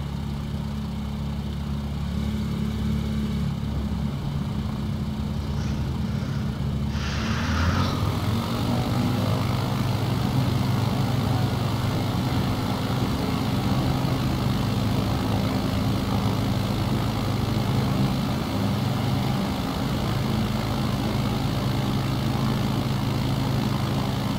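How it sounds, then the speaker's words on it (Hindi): A propeller airplane takes off from a runway in Microsoft Flight Simulator with flaps one down, a constant loud engine drone that rises in pitch as power comes up and continues steadily. "प्लेन पोजीशन करते हैं फ्लैप्स वन डाउन ये रनवे से उड़ते हैं"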